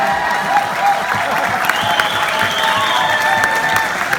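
Audience applause at a speech during a 2018 NED convention in Washington D.C., a loud sustained burst of many hands clapping with faint crowd murmur underneath.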